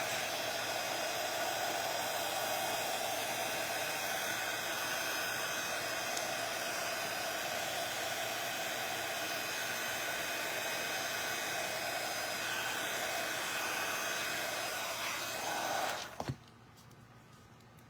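A heat gun blows hot air in a steady, breathy whoosh at moderate distance while it warms a WoodUBend moulding for a tissue-paper decoupage wine bottle project. It runs continuously and then cuts off abruptly near the end, leaving quiet room tone.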